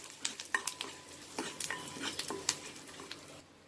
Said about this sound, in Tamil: எண்ணெய் காஞ்ச உடனே கடுகு, உளுத்தம்பருப்பு, பெருங்காயம், கருவேப்பிலை போட்டு நல்லா ஃப்ரை பண்ணிக்கோங்க